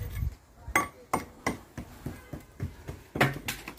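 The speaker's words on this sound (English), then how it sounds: "We've got young Miles there chipping out, aren't you, Miles?" Old lime mortar chipped out of brickwork during quicklime repointing, a run of sharp, evenly spaced hammer-and-chisel knocks, about ten close strikes in quick rhythm with no talking.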